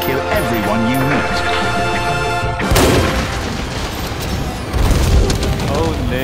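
Booming explosions and bursts of gunfire-like blasts from the Monster Hunter World: Iceborne video game, several heavy hits landing over about six seconds after a sustained tonal music passage, loud and close.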